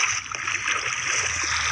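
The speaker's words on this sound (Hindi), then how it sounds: "आ तो रहा है ना ऊपर से पानी नीचे ज्ञानी।" Water splashes and flows continuously in a Minecraft survival world, a steady close gushing stream with slight gurgles.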